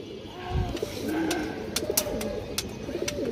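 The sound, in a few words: pigeons cooing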